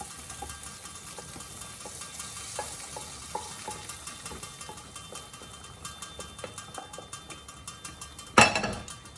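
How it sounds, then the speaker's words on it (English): Fried onion, garlic and dried chili stirred through a pan of lamb and channa dal, giving a steady sizzle with repeated light spoon scrapes and taps against the pan, and one louder clatter near the end. "we're going to add all the fried onion and garlic and the dried chili into the pan"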